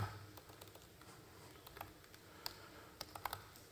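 Quiet, irregular keystrokes and clicks of someone typing Java code on a computer keyboard, faint and close, with a few sharper taps toward the end.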